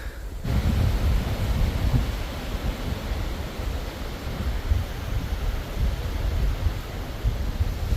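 Strong wind buffets the microphone on an exposed hilltop during a trek up Vaasimalai, a continuous loud low roar that gusts steadily throughout, with no voices.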